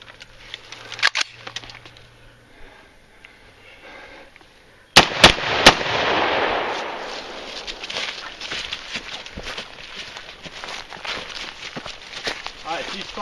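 Gunfire during a defensive shooting drill, three loud sharp shots in quick succession outdoors, with footsteps, shuffling and voices around them.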